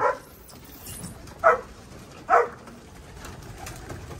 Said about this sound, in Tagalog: Mga ibon natin. Ayan sila oh.